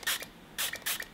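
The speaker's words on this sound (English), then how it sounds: "All you gotta do is pop the cap off and spray your fitted." Three short hissing bursts of cleaning solution sprayed from a pump bottle onto a fitted hat, close and clear, with brief pauses between them.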